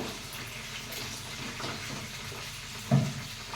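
Eggs fry in a pan with turmeric, giving a steady soft sizzle with a brief louder clatter near the end.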